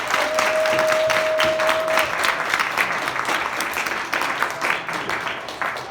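A high-school church festival audience gives warm applause for the broadcast team, staff, teachers and pastor, steady crowded clapping that thins slightly toward the end, with a brief high tone at the start.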